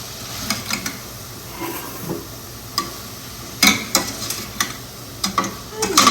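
Vegetables for butternut squash soup cooking with salt in a pot, giving a soft low simmering hiss broken by scattered sharp scrapes and clicks of stirring, with no talk.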